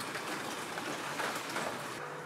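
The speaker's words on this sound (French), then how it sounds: "Il pleut, il mouille, c'est la fête à la grenouille." Steady rain falls in a yard at a South African nature reserve, a continuous broadband patter without breaks and no voices.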